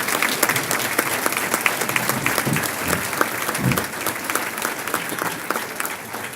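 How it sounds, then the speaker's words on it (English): An audience at an Athena Award ceremony gives sustained applause for the nominees, a dense, even clapping that carries on for several seconds and eases slightly near the end. "Can we please have a final round of applause for all of our nominees this evening?"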